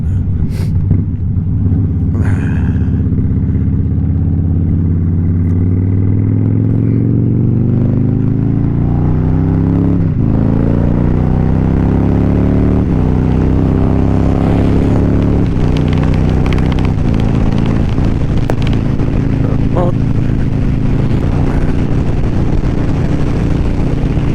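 Heavy wind roar buffets a loud helmet on a motorcycle riding the interstate, with a constant low rumble and engine drone that rise and fall in pitch as speed changes, filling the whole stretch.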